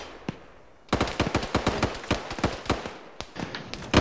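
Gunfire in the video game Black Hawk Down: a single shot, then rapid bursts of automatic fire with sharp, closely spaced cracks at varying loudness, as if from several weapons nearby.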